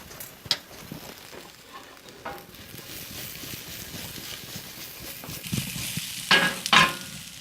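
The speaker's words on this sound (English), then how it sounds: "Saute that ginger for about 30 seconds." Ginger sautés with carrots in a pan over medium-low heat, a steady close sizzle and frying crackle with a few sharp scraping stir sounds, no talk.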